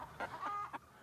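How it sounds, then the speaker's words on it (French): A Dutch crested hen clucking close by, three or four short, soft, nasal clucks in quick succession. "Il existe au moins 400 races de poules. Monsieur a choisi une hollandaise huppée."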